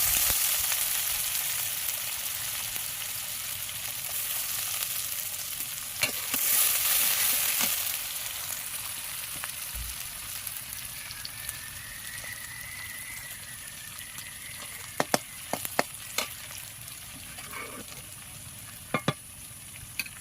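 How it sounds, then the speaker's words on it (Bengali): Sliced onions fry in hot oil with cinnamon, cloves, cardamom and dried red chilli, giving a steady close sizzle with occasional stirring clicks and scrapes against the pan. "ফোড়নে দিয়ে দিয়েছি দারচিনি, লবঙ্গ, এলাচ আর শুকনো লঙ্কা। এবার দিয়ে দিয়েছি পেঁয়াজ।"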